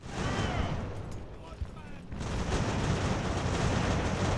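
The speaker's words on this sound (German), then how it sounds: "Wir haben schon wieder von irgendwelchen Artilleristen beschossen" Artillery fire thunders in the naval battle game Ultimate Admiral: Age of Sail as a continuous, dense roar of cannon blasts and rumble that stays loud throughout.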